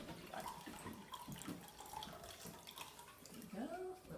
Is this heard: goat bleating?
no